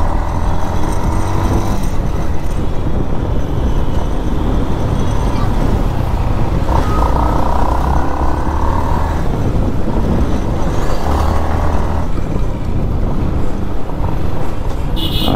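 Busy road traffic on Mall Road in Solan, heard from a moving motorcycle: continuous engine and road noise, passing cars and bikes, and a few horn blasts over the dense rumble, close and loud throughout.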